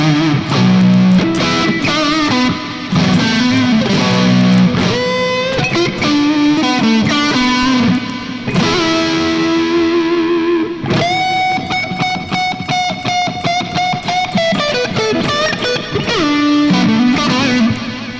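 Electric guitar played through a ping-pong delay, notes echoing and repeating back and forth, loud and continuous with no talking.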